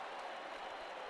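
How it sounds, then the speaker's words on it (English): Crowd roar from the Queen City home stadium in a video game football match, a continuous faint wash of cheering noise at low volume, steady and unbroken throughout. "the roar of Queen City's crowd that we've heard all night"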